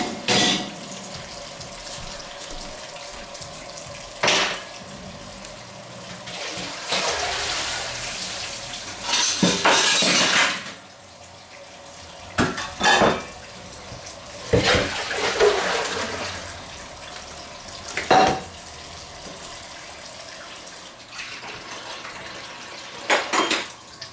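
Tap water runs into a kitchen sink while dishes are being washed, in repeated splashy bursts that start and stop, with occasional clinks of dishes and cutlery and no talking.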